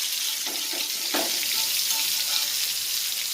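Steady hissing sizzle of barracuda fish frying in hot coconut oil, with a few soft thumps and stirring sounds near the start.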